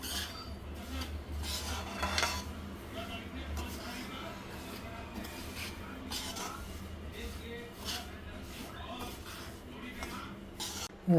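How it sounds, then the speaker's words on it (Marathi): Half a kilo of fine semolina roasting in ghee in a pan, with a continuous scraping and rubbing of a spatula, soft metallic clinks of the vessel, and quiet talk underneath throughout. "हा रवा व्यवस्थित भाजून घेते"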